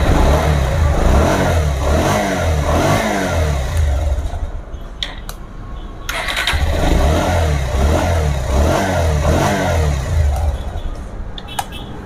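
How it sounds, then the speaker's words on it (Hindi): A Bajaj Pulsar motorcycle engine with a starting problem runs and revs repeatedly, rising and falling in bursts with a brief dip in between, close and loud throughout. "अब आप लोगों को बाइक स्टार्ट हो रहा है कि नहीं दिखाता हूँ"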